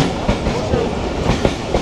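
Rhythmic clickety-clack of the Tungipara Express running on the rails, repeated wheel beats over a loud continuous rumble, heard from inside the train.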